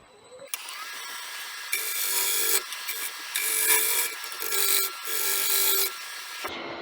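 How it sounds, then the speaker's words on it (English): A shear scraper shapes the outside of a 16-inch Spanish chestnut bowl spinning on a lathe, making repeated loud rasping scrapes in several passes with short breaks between them. "Shear scraping the shape in."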